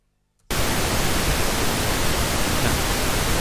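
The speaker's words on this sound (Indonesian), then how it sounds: "Kemudian kita play dengan pink noise-nya." Pink noise played back in Adobe Audition while balancing a mix, a loud, steady broadband hiss that starts abruptly after half a second of near silence and holds constant to the end.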